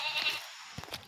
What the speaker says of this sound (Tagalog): kaita tayo ng kambing